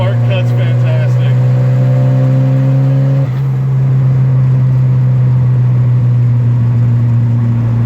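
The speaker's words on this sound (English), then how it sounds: "Someone asked for the rev limiter, so here you go. Spark cut's fantastic." Big-turbo Volvo engine hammering against its spark-cut rev limiter, a loud steady drone with a sharp stutter that drops in pitch partway through, then settling into a continuous engine hum close up.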